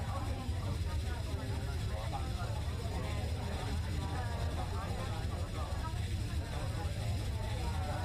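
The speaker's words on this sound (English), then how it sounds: "I'm gonna bring down the passenger ambience. It is quite loud." Passenger cabin ambience in the Fenix A320 flight simulator runs as a steady, continuous murmur of crowd chatter over a low engine hum, fairly loud and unchanging throughout.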